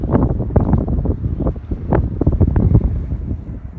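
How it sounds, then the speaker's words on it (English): Loud, steady wind gusting and buffeting hard against the microphone high up in a park in Lingang, Shanghai, a continuous roar with rough low rumble throughout and no voices. "the wind up here is a little bit scary"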